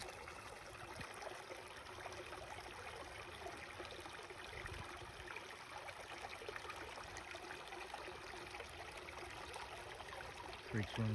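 Steady, soft running water of a creek in New Jersey, a continuous gentle rushing and trickling with no pauses, heard from a moderate distance.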